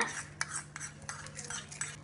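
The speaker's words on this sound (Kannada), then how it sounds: "ತೆಂಗಿನಕಾಯಿ ತುರಿ ಹಾಕಿ, ಹಾಗೆ ಮೊಸರು ಹಾಕಿಬಿಟ್ಟು ಇದನ್ನ ನೀಟಾಗಿ ಮಿಕ್ಸ್ ಮಾಡ್ಕೊಳ್ಳಿ" A spoon mixes thick flattened rice with curd, sugar and grated coconut in a bowl, giving quiet, rhythmic scraping and soft clinks of cutlery against the dish, close and faint, with no voices.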